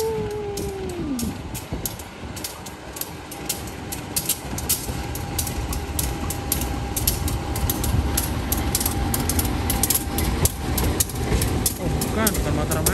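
A Matarmaja passenger train moves slowly past, its steady rumble and wheel noise continuous and fairly close, with a horn-like tone early on and people talking over it.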